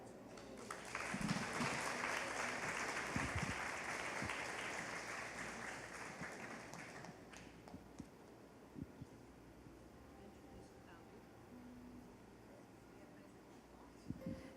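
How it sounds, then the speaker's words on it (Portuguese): A church audience applauds after a speaker's request, a broad burst of clapping that fills the first half and then fades into quieter room noise with scattered sounds. "Eu gostaria que vocês aplaudissem Jesus na vida dela."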